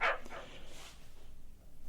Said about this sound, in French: Notre chien, il est toujours en train d'aboyer dans les pentes au-dessus.